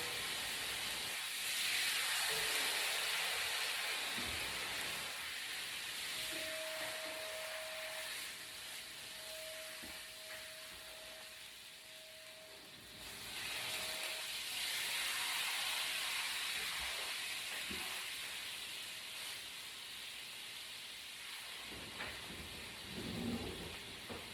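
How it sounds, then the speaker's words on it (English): Birria sauce hits a hot skillet holding softened tortillas and sizzles, a sustained hissing steam that swells and fades in waves, with no talk. "Add a little bit of our sauce to the skillet"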